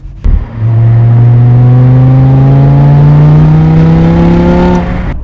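A BMW E60 M5 sports car with its V10 engine pulls hard under acceleration, a loud, close howl climbing steadily in pitch through a single long gear before the throttle lifts abruptly.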